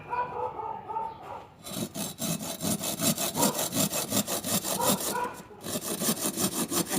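Steady back-and-forth sawing through wood with a handmade hand saw, rapid regular rasping strokes up close, with a brief pause before the strokes resume.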